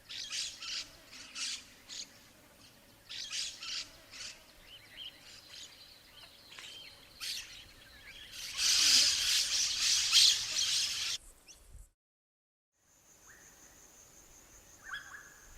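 Varied lorikeets squawk in harsh, repeated bursts, with one loud, dense stretch of overlapping calls before a brief silence and more scattered calls.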